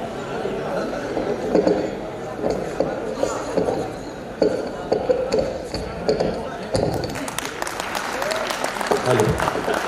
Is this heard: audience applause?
yes